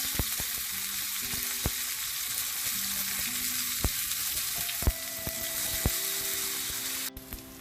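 Fish fries steadily in hot oil in a pan, giving a continuous close sizzle with occasional sharp crackles and pops, and no voices over it.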